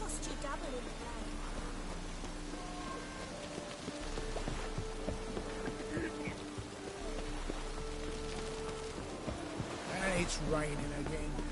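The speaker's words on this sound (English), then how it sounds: "It's raining again." Rain falls steadily in The Witcher 3 on PS4, a continuous soft hiss and patter layered over sustained game music tones and ambience, with a brief louder swell near the end.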